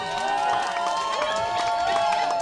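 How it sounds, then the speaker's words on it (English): Live concert audience applauding and cheering for an encore, a dense continuous wash of clapping and shouts at steady loudness, with a voice talking over the crowd. "If you guys want one more, clap it really loud."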